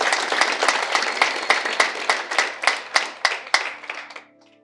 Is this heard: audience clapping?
yes